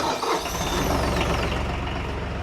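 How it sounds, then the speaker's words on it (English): A Bad Boy 40 Series compact tractor engine cranks and catches, then settles into a steady, close, mid-pitched running rumble with a whining tone over it. "fire up the tractor"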